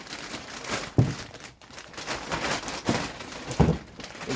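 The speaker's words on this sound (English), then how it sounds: "Plastic bag." Crinkly plastic bag being handled near a heavy-duty Boxer tool bag in a workshop, a few sharp crackly bursts over a steady noisy background, no voices.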